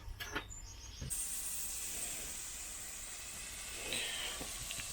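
Thick-cut sirloin steak cooking on a low flame on a Cadac Safari Chef 2 gas grill, a steady faint sizzling hiss running throughout with a brief soft knock near the start.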